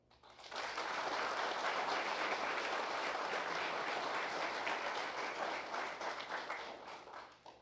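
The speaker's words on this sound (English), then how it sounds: "I take my hat off and we applaud you today" An audience at a police Emergency Service Unit graduation breaks into sustained applause, a dense wash of clapping that swells quickly, holds steady for several seconds, then thins out.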